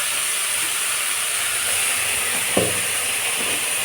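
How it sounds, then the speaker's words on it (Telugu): Panagunta leaves frying in a pan with cooked toor dal nearby, a steady close sizzling hiss throughout with one brief clink partway through, no talking. "ఇది బాగా ఫ్రై అవుతుందండి. ఆకులు ఫ్రై అవుతుంది."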